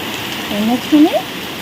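A steady hiss of rain fills the background, with a brief voice rising over it for a moment.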